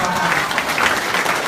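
Audience applause at an AIM Global business presentation, a loud, continuous patter of many hands clapping.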